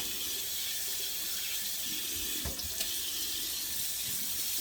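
Cold water runs steadily from a kitchen tap into a sink, a continuous broadband rush with a couple of brief clunks partway through; no one speaks.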